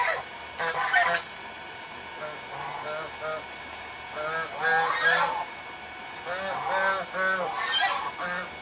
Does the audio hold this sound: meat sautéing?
no